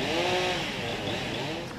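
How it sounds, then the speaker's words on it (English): Chainsaws cutting up fallen trees beside a tram station after storm damage, a continuous loud whining engine drone that holds steady throughout, close by with no talk. "They used chainsaws to cut up the trees"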